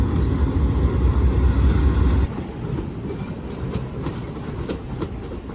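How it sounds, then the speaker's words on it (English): An Amtrak passenger train rolls out of a Chicago station, a loud steady rumble that drops partway through to a lighter rhythmic clatter of wheels over rail joints, heard from inside the coach with no talking. "We started rolling out of the station"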